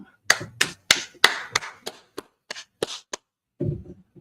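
Audience in Harlem, New York clapping in short bursts of sharp, loud claps with uneven rhythm and brief pauses, ending in a muffled thump.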